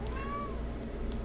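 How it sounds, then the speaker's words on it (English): A cat gives a single drawn-out meow with a rising then falling pitch, faint against a steady low indoor hum, with no talking. "that's the cat"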